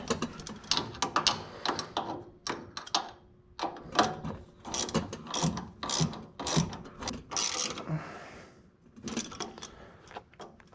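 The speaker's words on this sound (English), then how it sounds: "we're going to go ahead and tighten our inlet bolts" A ratchet tightens turbo inlet bolts on a 2015+ Subaru WRX, giving rapid clicking bursts in repeated strokes with short pauses, close and loud, dying away to near quiet at the end.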